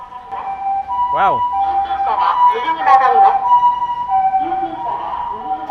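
A passing ambulance siren wails through a Japanese street, its rising and falling tones fairly close and steady while people talk over it.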